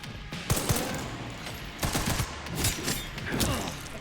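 Machine gun fire in the Requiem video game: loud repeated bursts of automatic shots separated by short pauses across the whole stretch, no talk.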